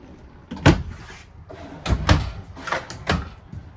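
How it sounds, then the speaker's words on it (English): RV cabinet doors in a 2022 Forest River Cherokee Alpha Wolf 28FK-L are opened one after another, giving four or five close, sharp wooden knocks and clacks spaced about half a second to a second apart. "let me get these doors open"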